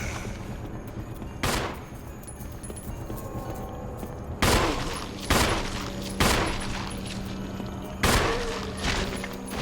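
Gunfire in the video game Resident Evil HD Remaster, with about five loud, widely spaced single blasts over a low background hum and no talk.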